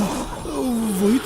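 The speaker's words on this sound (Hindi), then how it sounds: "नहीं, ये तो सचमुच के शेर की दहाड़ थी।" A lion's roar in an animated Hindi cartoon, a long drawn-out growling cry that rises and falls over about a second, loud and alone with no talking.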